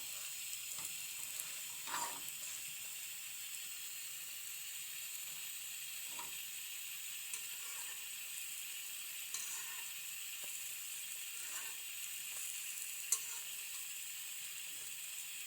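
Eggs frying in a pan, a faint, steady sizzle running throughout with a few small pops and clicks, no voices.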